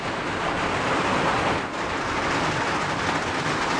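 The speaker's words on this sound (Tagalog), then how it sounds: "ang lakas ng ulan" Heavy rain pours steadily over a farm field during a watermelon harvest, a dense, loud and continuous hiss with no voices.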